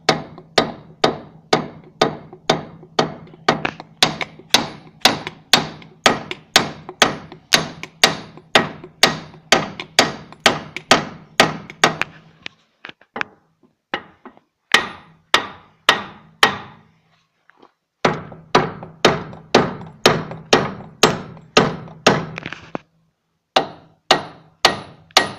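A hammer strikes steel repeatedly while a wheel hub bearing is replaced without a puller, each blow a sharp ringing clang in a fast, steady rhythm with two brief pauses, loud and close.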